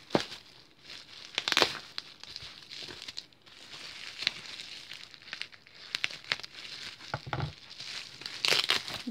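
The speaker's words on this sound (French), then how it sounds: "Alors je vais couper le scotch qu'elle a mis pour découvrir avec vous ceci." Tape being cut and a bubble-wrapped parcel being unwrapped up close: soft crinkling and rustling of plastic in irregular bursts, with a few sharper crackles, quiet overall.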